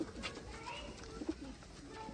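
Sialkoti pigeons coo softly in a few low, repeated calls, with a faint voice talking underneath.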